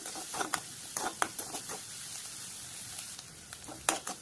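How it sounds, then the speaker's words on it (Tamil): Soft continuous sizzling of onions frying in a pan, with scattered crackles and spatters popping through the hiss. "இப்போ வெங்காயம் நல்லா வதக்கிக்கலாம்."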